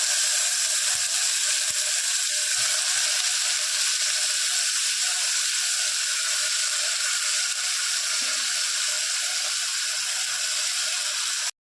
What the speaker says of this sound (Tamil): தக்காளி எடுத்து போட்டுக்கலாம் தக்காளி நல்லா வதங்கட்டும்